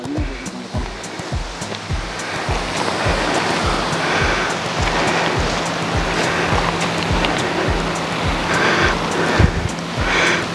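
Sea waves wash steadily against the rocky Sidab coastline near Muscat, with a continuous broad surf roar, low rhythmic thumps and no voices.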